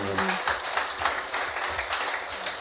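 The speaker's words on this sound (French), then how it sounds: "Encore avec vos applaudissements" Audience applause at a business awards ceremony in a hall, steady clapping with a few stronger bursts for about three seconds, while a faint voice and low music hum sit under it.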